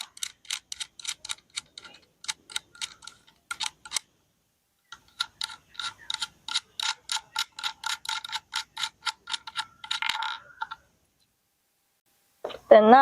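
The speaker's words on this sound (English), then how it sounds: "And also screw the two screws out." A screwdriver turns small screws out of an electric guitar bridge, producing rapid, crisp ratcheting clicks in close, quiet bursts with brief pauses between them.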